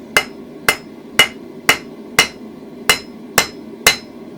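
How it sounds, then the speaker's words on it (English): Eight evenly spaced, sharp hammer blows ring out close by as a blacksmith hand-forges a toasting fork, each light metallic strike decaying quickly before the next. "And I'll do lighter hammer blows on the end."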